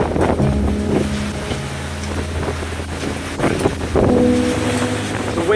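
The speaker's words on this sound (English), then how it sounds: "Wind's getting a little crazy now." Hurricane Irma's wind roars steadily and buffets the microphone in heavy gusts, a loud, rushing storm noise with no talking.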